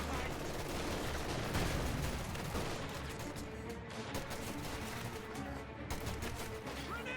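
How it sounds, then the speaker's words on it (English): Rapid M1911 handgun fire from medics in a Company of Heroes 2 battle, dense overlapping bursts of gunshots mixed with heavier battlefield gunfire, continuous and loud throughout. "You got these medics engaging with their handguns,"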